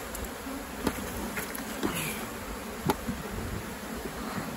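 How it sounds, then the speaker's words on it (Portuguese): Honeybees from a swarm buzz steadily and densely around a hive during beekeeping work on a honey super, a continuous close drone with a few louder bursts as bees pass near. "Tem bastante abelha no enxame, gente. Bastante abelha."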